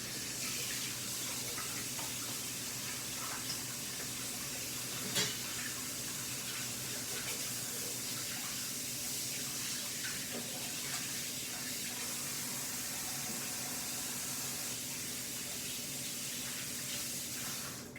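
A kitchen tap runs steadily as hands are washed under the water, a continuous faint hiss of flow and splashing lasting the whole stretch.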